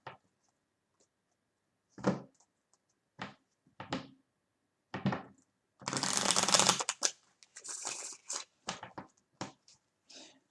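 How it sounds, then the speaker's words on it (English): Tarot cards are shuffled and drawn, first as separate soft slaps and flicks, then a longer riffling shuffle followed by quick card snaps, all close and quiet. "I'm going to pull cards on this Three of Swords here."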